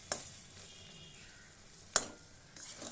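Dried loitta fish curry with potatoes, nearly cooked, stirred in a pan: a quiet low sizzle with two sharp clacks of a spoon against the pan and a brief scrape at the end.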